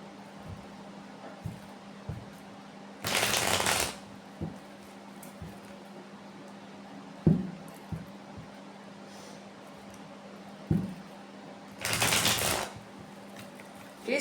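Tarot cards from a witches' tarot deck being shuffled in two brisk riffling bursts several seconds apart, with soft scattered taps and handling noises between them and no talking.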